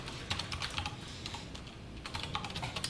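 Fingers type on a computer keyboard in quick bursts of close, clicky keystrokes, with a short pause in the middle before another rapid run of taps.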